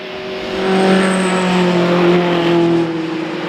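Tuscan racing cars lapping Oulton Park in the Dunlop Tuscan Challenge, loud sustained engine roar with a steady high whine, swelling as a car powers through a corner and holding strong throughout.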